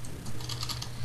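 Rapid typing on a computer keyboard, a quick close run of light key clicks over a low steady hum.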